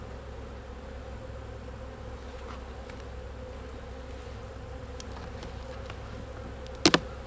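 Honeybees in an open hive loading nectar, a steady dense buzz throughout, with one brief sharp knock near the end.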